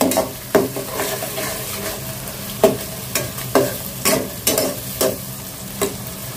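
Garlic, onion and two bay leaves fry in oil, giving a continuous sizzle punctuated by regular scraping strokes of a spatula stirring them around the pan.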